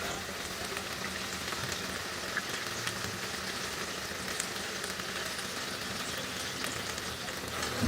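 Coriander leaf fritters frying in hot oil, a steady dense sizzle and crackle that holds evenly throughout with no talking.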